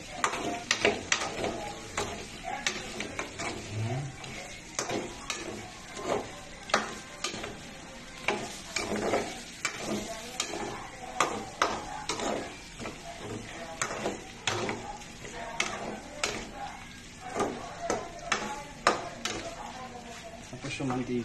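Food frying in oil in a pan inside a Denza, a steady sizzle broken by repeated scraping and clinking strokes of a utensil stirring, close by, while a person talks throughout.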